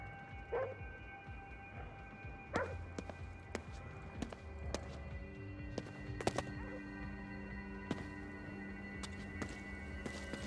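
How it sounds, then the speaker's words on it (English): Dog barking in the video game Ghostwire: Tokyo, several sharp barks scattered at irregular intervals over a quiet ambient background, moderately close and fairly faint overall. "What's he barking at?"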